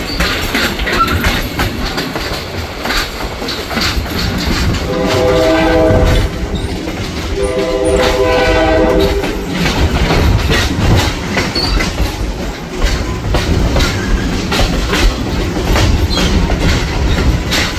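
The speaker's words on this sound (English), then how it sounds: "On the other end of the train is Western Maryland Scenic Railroad number 561." Train passing close with Western Maryland Scenic Railroad locomotive 561 on one end: loud continuous rumble and clickety-clack of wheels with squealing, and a horn sounding twice in the middle.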